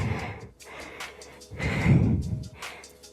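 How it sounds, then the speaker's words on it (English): Heavy, rhythmic breathing from a person exercising during a stretching and weights workout, with audible inhales and exhales close to the microphone and no talking. "Can you hear me breathing?"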